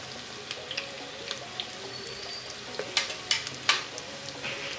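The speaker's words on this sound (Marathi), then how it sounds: "आणि परतून घेऊया" Onions and rice sautéing in a pan for basmati pulao, a soft steady sizzle with scattered sharp spatula clicks and scrapes growing busier toward the end.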